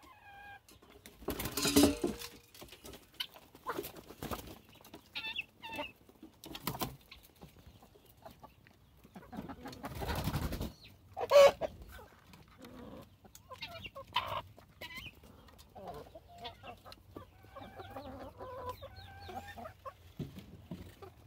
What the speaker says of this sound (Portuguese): As minhas galinhas da Angola ali.